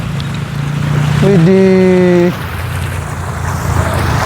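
Water rushes like a waterfall across a road, a continuous loud roaring wash, briefly overlaid by a sustained tonal vocal exclamation near the start.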